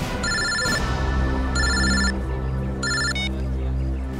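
A telephone rings in a TV crime-drama scene: three loud, close electronic ring bursts separated by short pauses, over a low steady hum with no talking.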